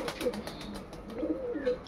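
Blue female racing pigeon, a long-distance bird, cooing softly in a few low rolling phrases, near and fairly quiet, with light clicking sounds above and no speech.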